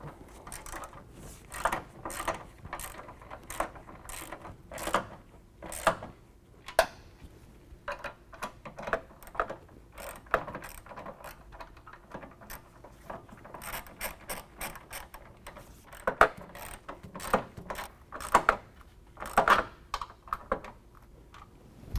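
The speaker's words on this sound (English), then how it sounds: "Next we're going to tighten down our pinch weld bolts first, starting at the front bracket." Ratchet wrench with a 13mm socket tightening pinch weld bolts on a 2018 Jeep Wrangler while bars are mounted, giving bursts of rapid mechanical clicking separated by short pauses, close and moderately loud, with no talking.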